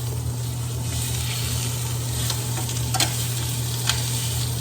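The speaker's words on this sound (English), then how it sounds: "You want to sear the ends as well." A big steak sears in a hot pan, giving a constant loud sizzle with a few sharp pops and crackles, over a steady low kitchen hum.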